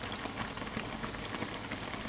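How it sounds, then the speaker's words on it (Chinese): Youbing dough cakes deep-fry in hot oil, a dense, even bubbling crackle that fills the short stretch at a moderate, steady level with faint pops and no voices. "另一边同样也炸至30秒钟，两面达到金黄的颜色即可出锅。"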